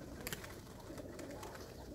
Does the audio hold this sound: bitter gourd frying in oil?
no